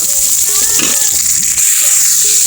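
Spices and masala frying together in a pan, a loud dense sizzle filling the whole moment, with a few scraping stirs and faint background tones, no speech.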